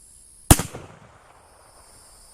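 A single sharp, loud rifle shot from a 150 grain rimmed cartridge cracks close by, then decays into a fading echo over about two seconds.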